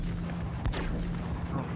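Remote turret gunfire on a Crusader Hercules Starlifter ship in the video game Star Citizen, a dense continuous rumble of weapon fire with one sharper burst near the middle, loud and steady throughout.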